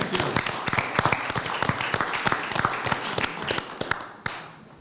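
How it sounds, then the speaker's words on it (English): A round of applause from a gathered group, dense overlapping claps at moderate loudness sustained for several seconds before tapering off, with a few louder individual claps standing out near the end. "I think he deserves a round of applause."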